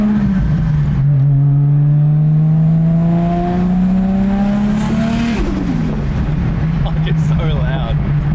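Holden VZ SS Turbo Ute fitted with a 60mm wastegate roars past, its loud engine note rising in pitch then dropping as it passes, with people talking over it.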